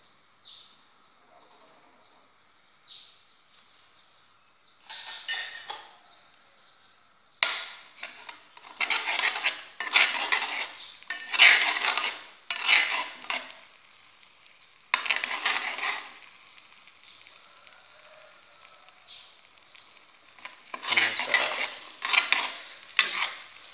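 Sambal of red curly chilies cooking in a pan, with scattered bursts of metal utensil scraping and clattering that grow busier later, the frying underneath faint and no voices.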